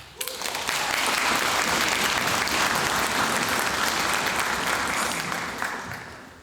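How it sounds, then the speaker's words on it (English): A concert audience bursts into sustained, dense applause with scattered cheers, loud and steady for several seconds before tapering off. "Everybody, a round of applause for Joel."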